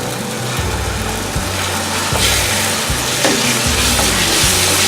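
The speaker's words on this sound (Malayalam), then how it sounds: "ഇനി നല്ലതുപോലെ ഇളക്കി യോജിപ്പിക്കുക" A spoon stirs yogurt into biryani masala frying in a pan for egg biryani, making rhythmic scraping strokes about once a second over a constant, loud sizzle.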